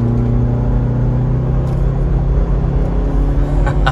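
A 2022 Ford Bronco accelerating hard on a highway on-ramp, heard from inside as a steady, loud engine drone and rumble that holds strong for the whole stretch, with no talking.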